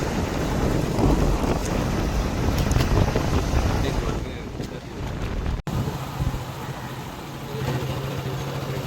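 Stormy sea waves crash along the coast after a cyclone, under strong wind that buffets the microphone in loud, continuous roaring gusts, with muffled talk mixed in.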